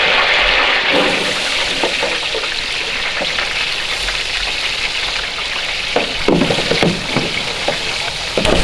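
Tilapia fish sizzling and frying in hot oil in a pan for a home-style fish curry, a steady loud crackle throughout with occasional stirring clatter and brief louder bursts.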